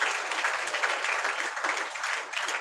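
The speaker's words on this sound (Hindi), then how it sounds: "जोरदार ताली बजाओ परमेश्वर के" A church congregation at a Friday meeting claps loudly, a continuous dense wash of applause that fills the whole moment with no gaps.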